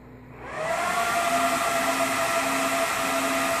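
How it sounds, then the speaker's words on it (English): Eight cooling fans inside a Dell PowerEdge 1950 server spin up, rising after half a second into a loud, steady rushing roar with faint whining tones. The roar holds close and continuous with no talking. "eight fans inside there that are all pulling air at a tremendous rate."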